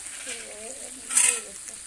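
Water poured onto meat frying in an iron pan over a clay stove, hissing into a brief louder sizzling burst midway over a steady low sizzle, with a voice speaking faintly underneath.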